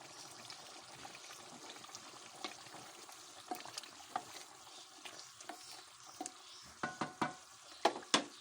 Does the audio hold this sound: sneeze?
no